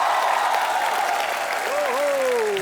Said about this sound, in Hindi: जोरदार तालियां एक बार वैभवी मर्चेंट के लिए